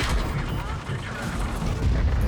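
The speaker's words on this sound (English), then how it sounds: "Artillery hits Ezio for a little bit of damage" Artillery fire rumbles in the tank video game World of Tanks, a dense, loud, continuous barrage of low booms and blasts with no clear gaps, and game effects layered over it.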